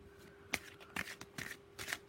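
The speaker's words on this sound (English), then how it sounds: "I'm just going to knock and shuffle and get that out as well" Tarot cards are knocked and shuffled by hand in a quiet room, giving a few crisp, separate riffling and tapping bursts spaced over two seconds, soft and close.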